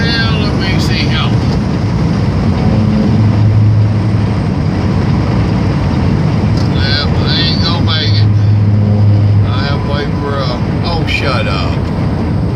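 Inside a truck cab on the road, a loud, constant low rumble of engine and road noise drones throughout, while people talk over it at times.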